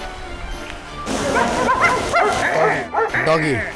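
A small puppy barks and yips in a run of high, excited yaps and whimpers, close and loud, mixed with people speaking nearby.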